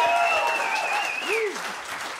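A jazz concert crowd applauds the drummer of a sextet in a steady, full wash of clapping, with a high whistle or cheer gliding above it.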